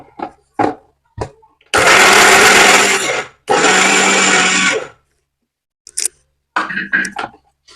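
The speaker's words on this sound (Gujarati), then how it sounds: "આ પીંડિયાનો ભૂકો છે એ બધા મિક્સર જારમાં લઈ લઉં છું અને આપણે ભૂકો કરી નાખીએ." A kitchen mixer jar grinds pindiya into powder in two loud, harsh bursts of about a second and a half each, separated by a brief pause and surrounded by sharp clicks and knocks of handling the jar.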